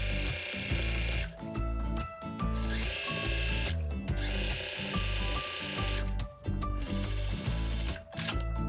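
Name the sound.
overlock serger sewing the side seams of a skirt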